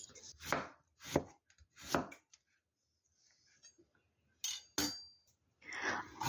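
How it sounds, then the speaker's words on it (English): A knife slicing pumpkin and autumn squash thinly on a cutting board, giving sharp, close chops in small bursts separated by short quiet gaps. "I'm going to slice pumpkin and autumn squash thinly to cook"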